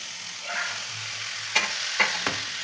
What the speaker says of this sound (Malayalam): നമുക്ക് ആ മുറിച്ച് വെച്ചിരുന്ന തക്കാളി കഷ്ണങ്ങളൊക്കെ ഇട്ട് കൊടുക്കാം